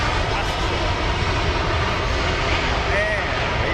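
An airliner on landing uses reverse thrust, and its engines make a loud, continuous roar that holds steady throughout, close and dominant with no pauses.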